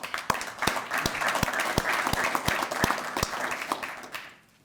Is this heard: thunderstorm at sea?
no